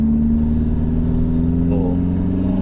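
Maserati Biturbo engine running through a large exhaust, a steady deep drone from the cabin that holds a constant note for nearly three seconds without a clear rev rise, with a faint voice briefly in the background.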